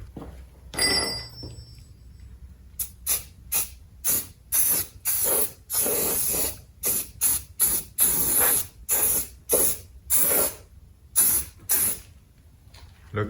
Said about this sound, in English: We're gonna give it a quick coat of paint, that way it doesn't rust